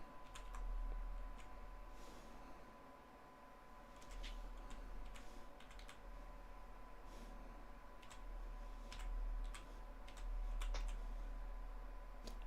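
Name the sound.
typing on a computer keyboard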